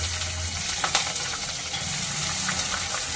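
Dried red chillies and green chillies frying in hot oil, a steady loud sizzle with light crackles and a few faint clinks, no talking.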